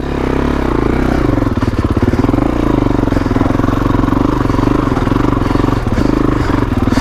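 A 2021 Kawasaki KX450X dirt bike lugging at slow speed on single-track trail, its engine thumping loud and close with a steady low pulsing chug and mechanical clatter throughout.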